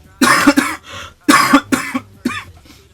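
Several sharp coughs come in two quick bursts, close and loud, followed by a softer final cough.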